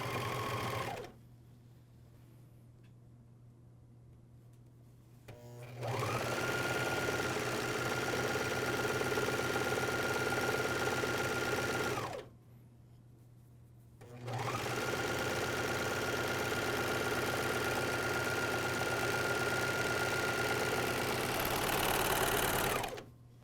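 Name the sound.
MyLock 454D serger stitching pajama seam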